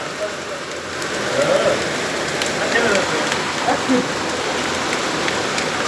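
Rain pours down hard and steady at night in Riyadh, with scattered sharper taps and pings of hailstones striking nearby surfaces.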